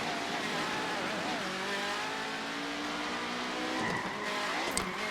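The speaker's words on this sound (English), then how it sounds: "You do drift a lot more in these cars." Race car drifting in the iRacing Arcade video game, with sustained tire squeal and engine revving rising and falling as the car slides, steady and moderately loud, with someone talking over it.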